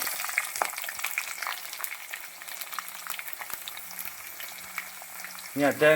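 Mustard seeds, fenugreek and chopped garlic frying in oil for a Kottayam-style Kerala fish curry crackle and pop in a soft, continuous patter, and a voice cuts in briefly at the very end.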